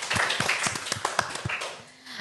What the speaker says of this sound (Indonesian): Boleh dong tepuk tangannya kepada narasumber kita.